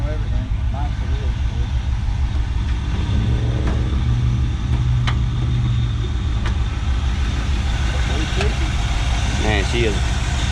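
A 1971 Chevrolet Nova's original engine idles with a steady low rumble close by, while people talk over it and a few short clicks and knocks punctuate the hum.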